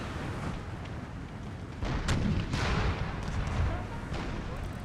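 Troops firing on enemy ranks in the Empire: Total War mod Brothers vs. Brothers, a dense rolling crackle of musket volleys with heavier booms rising midway, mixed with battle noise and some voices.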